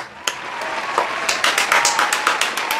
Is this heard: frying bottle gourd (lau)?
no